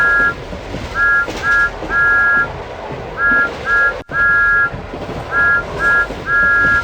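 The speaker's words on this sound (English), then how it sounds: "Whistle." Train whistle from the 2007 PC game Thomas & Friends Special Delivery: a repeated pattern of short and longer steady tones in groups, loud and close, with an engine-like rumble underneath and no talking.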